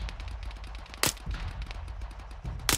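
Gunfire in Arma 3 Battle Royale: rapid rattling automatic shots close by, with two sharp, louder single reports standing out among the bursts and no talking.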